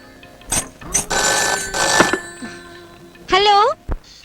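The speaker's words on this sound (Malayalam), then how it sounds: "ഫോൺ എടുക്ക്" In a Malayalam film scene, a telephone gives one loud, warbling ring burst right after people talk, with a short sharp knock following it.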